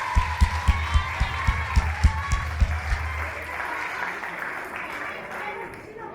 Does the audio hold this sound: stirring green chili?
no